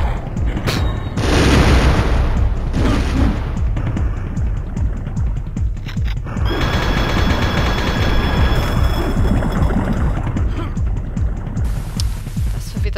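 Repeated loud grenade explosions booming in Turok: Dinosaur Hunter, with heavy blasts and rumbling gunfire-like bursts filling the scene almost continuously and someone speaking over the action.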